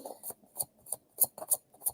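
Tarot cards being shuffled during a live reading, a short burst of soft papery riffles and crisp card slaps in quick, uneven succession, faint and close.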